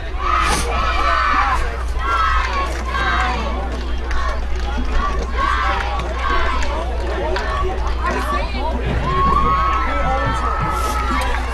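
A crowd cheers in the stands at a high school football game, Mesabi East versus Chisholm, with rhythmic shouted chanting and loud crowd noise under steady talk and a constant low hum.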